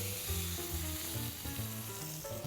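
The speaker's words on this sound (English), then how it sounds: "So we're gonna take our steak and place it right into the saute pan." A steak sears in a hot sauté pan, giving a steady close sizzle and crackle with small stirring clicks, no one talking.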